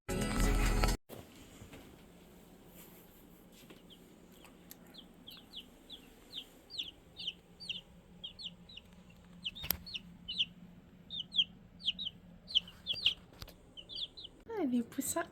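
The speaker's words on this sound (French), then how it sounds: "Je vais vous montrer les petits poussins." Chicks and hens in a woodland backyard give a run of high, repeated peeping chirps, steady and fairly close, with softer clucking and small knocks underneath.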